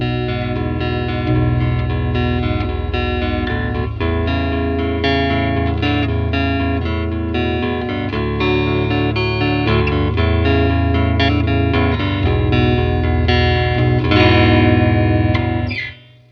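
A Squier Bass VI picks out a steady run of single low notes, thick with distortion and chorus, loud and continuous before stopping abruptly.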